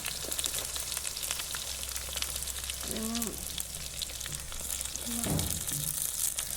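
Onions fry in a pan with a steady, moderately loud hiss, joined by brief scraping and rustling stirs; a few short vocal sounds appear midway and near the end.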